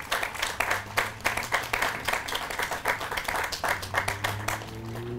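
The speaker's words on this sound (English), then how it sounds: "A round of applause." An outdoor audience at a Memorial Day ceremony in Wappinger gives a fairly faint, sustained round of applause, scattered claps overlapping with a low steady hum beneath.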